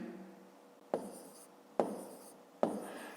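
Numbers being written down for a fifth-grade maths exercise: three distinct pen strokes on paper, each a sharp scratch fading out, spaced roughly evenly, close and quiet with no speech.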